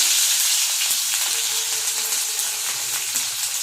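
Garlic and ginger sizzle in hot oil with mustard seeds, making a loud, bright, continuous hiss with scattered small pops and spits, close up and with no voices.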